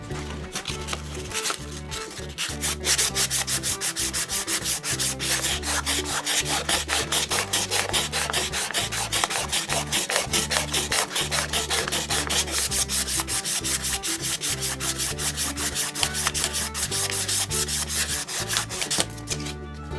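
A cast iron quick-release vice is smoothed by hand, with fast, rhythmic rasping strokes scraping back and forth continuously, close and loud, with no voices.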